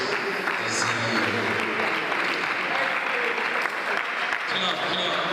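Audience applause fills a conference hall, a dense, steady clapping from a large crowd that holds at an even level throughout with no pauses.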